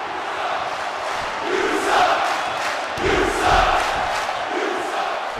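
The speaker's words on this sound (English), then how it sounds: "Crowd is speaking. They're not happy with this double team." A wrestling arena crowd at a championship show jeers and roars over a double-team move, a loud sustained mass of voices swelling in two waves, with no commentary over it.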